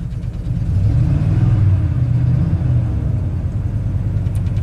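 A rebuilt Ford big block V8 in a car out on the road runs with a loud, steady low rumble, a slight swell in revs partway through, close and without talking.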